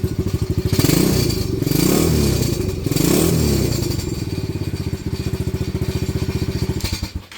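A Venom Madix 125 quad's small engine fires up and revs nearby, rapid chugging pulses rising and falling in several bursts before settling to a fast idle.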